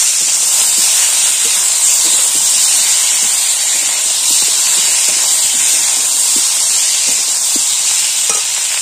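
Chopped tomatoes and slit green chillies fry loudly in a pan with turmeric powder. A dense, continuous hiss and sizzle runs throughout, close and strong, with faint stirring taps and no speech.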